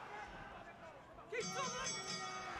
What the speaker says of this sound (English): So bell goes to the end of the first